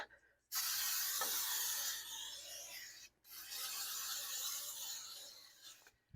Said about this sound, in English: I got no stick spray. I got my frying pan here.